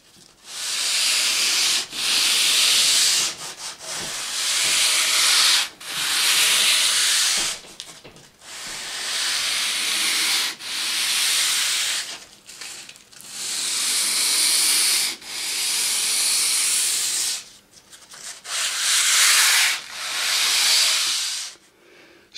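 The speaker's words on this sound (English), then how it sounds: "take some 220 sandpaper and just ease the sharp edges, not only on the slot, but on the dado" Sharp wood edges of a track slot and dado are eased by hand with 220-grit sandpaper, rhythmic bursts of raspy rubbing strokes, close and loud, separated by short pauses.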